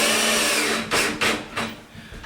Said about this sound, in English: screw this into place